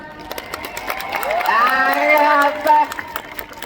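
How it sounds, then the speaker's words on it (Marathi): A large crowd at a folk music event in Wakad cheers and shouts, with voices rising together into loud whoops that peak near the end. Any clapping is buried under the cheering. "अरे गर्दीचा टाळ्यांचा आवाज कसा असला पाहिजे मग"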